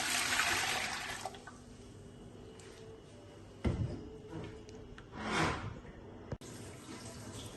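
Water gushes from a tap into a cooking pot for kadhi, starting with a strong, close rush that settles into quieter trickling, broken by a few knocks and clunks of handling.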